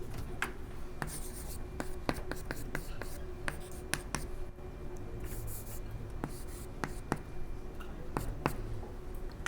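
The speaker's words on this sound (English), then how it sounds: "Let me just write it here." Pen or marker writing during a discrete mathematics lecture, a string of short scratchy strokes and taps over a quiet room hum, with faint voice sounds between strokes.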